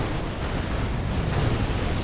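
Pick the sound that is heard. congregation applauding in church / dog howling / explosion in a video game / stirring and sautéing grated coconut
explosion in a video game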